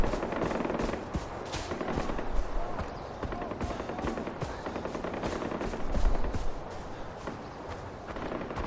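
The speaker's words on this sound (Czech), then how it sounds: "Kdo zase střílí, pane bože?" Rapid bursts of automatic gunfire in the video game Far Cry 4 crackle continuously, dense and loud, with a few heavier booms mixed in amid busy game ambience.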